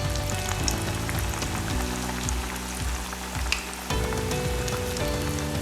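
Yellow pea vadai fry in hot oil with a steady, dense sizzle and crackle, and bubbling surges rise and fall as the fritters cook, with no voices.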